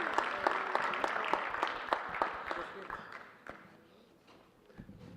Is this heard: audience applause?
yes